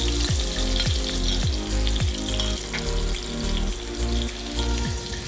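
Mustard paste and spices hit hot oil in a pan for hilsa, a loud continuous sizzle and crackle with a few scraping stirs, close up and free of talk.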